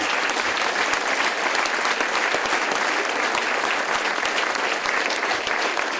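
Warm, dense applause from an audience at a cdH party political speech, steady clapping throughout without a break.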